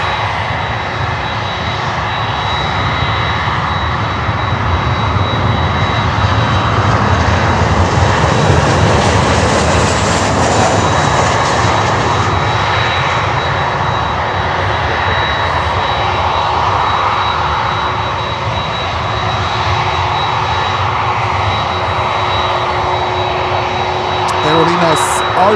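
A Swiss airliner's jet engines roar steadily during a go-around, a broad, loud rumble with a whining tone that swells and fades slightly as the aircraft passes overhead and climbs away.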